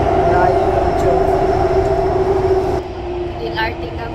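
A light rail train rides through Taiwan, heard from inside the car as a steady, loud rolling rumble with a continuous drone that eases slightly toward the end, with some voices in the cabin.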